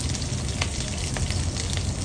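Mustard seeds, ginger, garlic and chilli crackling in hot oil for a king fish masala, a dense, close, unbroken sizzle with faint popping.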